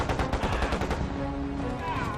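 Rifle fire during close-quarters fighting inside the US Embassy in the Tet Offensive, a dense burst of rapid shots sprayed in quick succession, loud and continuous throughout, with a ringing tone in the later part.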